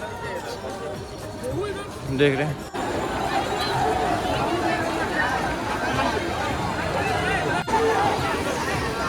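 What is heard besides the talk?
crowd at Har Ki Pauri ghat, Haridwar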